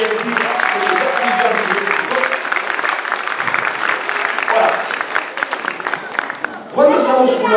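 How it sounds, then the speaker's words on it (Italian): Children and adults in a museum audience at a solar system talk in Genoa applaud in sustained clapping, with voices and cheering rising briefly at the end. "Fate un applauso a tutti quanti che siete stati pazienti."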